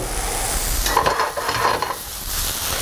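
Food browns in a crowded-free frying pan with a steady, close sizzle and hiss, a few light stirring scrapes rising over the frying for holiday cooking.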